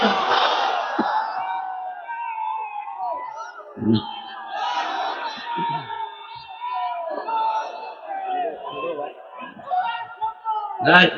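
A large crowd at a sermon roars a takbir, shouting Allahu Akbar together in loud, drawn-out collective calls that rise and fall, with a preacher's voice heard among them.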